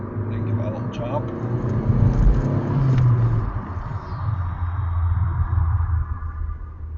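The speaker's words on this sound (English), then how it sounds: "When I turn and come back up, I'll give it a bit of a jab with the throttle." A Vauxhall Cavalier MK3 with a 1.8 engine rumbles steadily from inside the cabin, the revs swelling in short rises as the throttle is jabbed, with a continuous low drone throughout.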